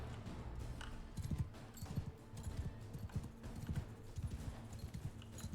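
Horse hooves gallop in a video game in a steady, rapid clip-clop rhythm at moderate volume. A low background hum runs beneath them, with no talk.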